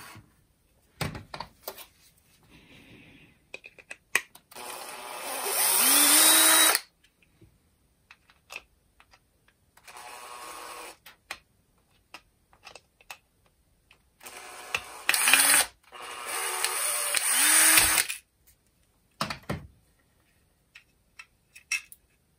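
A Makita DCF203 impact driver is taken apart on a bench, with small mechanical clicks and rattles of parts being unscrewed, broken by a few louder sustained grinding bursts, close and with no talk.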